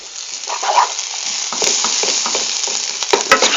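Garlic and salt fry in olive oil in a pan for French onion soup, giving a steady close sizzle with crackling pops and a few stirring scrapes throughout, no talk.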